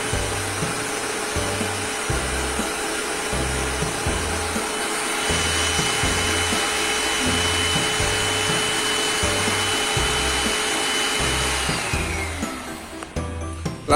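The vacuum on a 5035 PRO S Servo flatbed cutting machine runs as a steady loud roar with a regular pulsing low rumble, then winds down and fades near the end.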